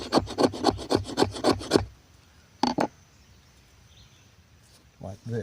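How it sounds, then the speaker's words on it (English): The back of a knife spine scrapes tinder into a pile outdoors, a rapid run of about ten rhythmic rasping strokes followed by a couple of isolated scrapes and near silence, with faint birds or insects in the background. "you take the back of your knife and you scrape"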